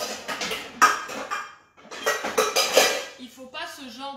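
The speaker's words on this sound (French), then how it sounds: "il faut une casserole avec un fond assez épais en inox" A thick-bottomed stainless steel saucepan handled in a kitchen, with metallic clanks and clinks in short bursts, close by and moderately loud, ending with ringing metal tones.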